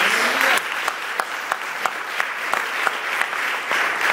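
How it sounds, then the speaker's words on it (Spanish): A church congregation applauds during a worship service, a steady wash of hand-clapping with sharper claps standing out, fairly close and continuous with no talk over it. "denle una ofrenda de palmas a nuestro Dios"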